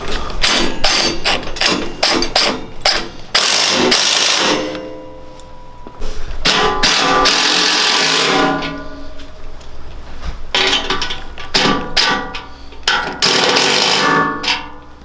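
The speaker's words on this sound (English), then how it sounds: "right now I'm swapping all these stock bolts out for Performance Engineering bolts and cup washers" Stock bolts on a Coleman KT196 go-kart are swapped for performance bolts with cup washers, heard as close, repeated metallic clicks, ratcheting and clanks in uneven bursts with short pauses.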